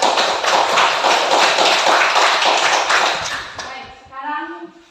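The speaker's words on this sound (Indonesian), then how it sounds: "berikan tepuk tangan kepada." Classroom full of students bursts into dense, close clapping for about three seconds, then it stops and a teacher's voice starts speaking.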